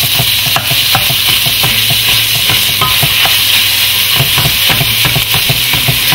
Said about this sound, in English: we're gonna add our sausage. 3/4 of a pound. You want to break it up with the back of your spoon.